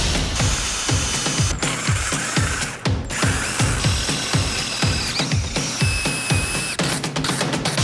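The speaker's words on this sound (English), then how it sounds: "Final little bit is drilling and tapping this." A power drill drilling and tapping metal for a thumb screw, in a run of rapid, repeated mechanical bursts, steady and close, with no voices.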